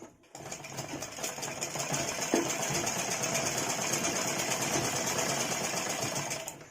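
Sewing machine running steadily while basting loose tacking stitches on a choli cut blouse, a continuous close, even mechanical whir for several seconds without speech.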